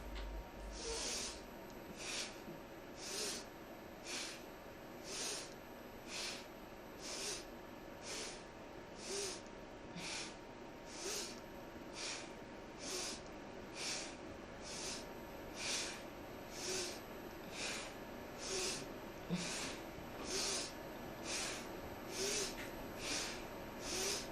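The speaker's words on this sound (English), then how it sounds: "Inhale up, exhale down." Deep, rhythmic yoga breathing during a kriya practice, a long steady series of audible inhales and exhales repeating roughly once a second, close and moderately loud with no talking.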